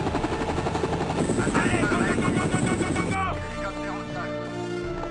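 A helicopter's engine and rotors roar steadily up close after landing, the pitch shifting slightly as the engine winds down, with faint French-speaking voices mixed in.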